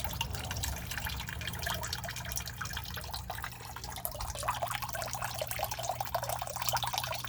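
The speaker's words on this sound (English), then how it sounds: "You can see it's not flowing too crazy, but it's enough to get the water up to it." Water trickles gently through a simple hydroponic setup in a small, modest flow, a faint steady run of drips and splashes heard alone with no talking.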